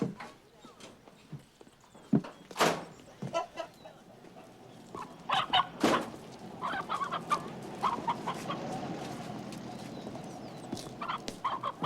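Farmyard hens clucking in scattered bursts of varying loudness, mixed with hoof clip-clops and brief voices, all set in a rural scene of a period drama.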